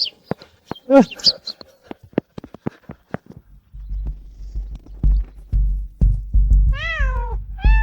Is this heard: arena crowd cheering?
no